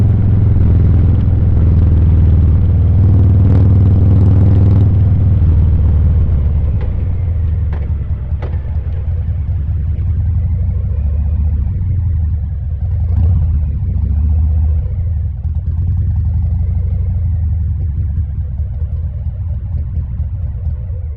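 Motorcycle riding along New Mexico Highway 130 in cold weather, its engine a loud continuous low rumble mixed with heavy wind roar throughout, easing slightly midway without a break.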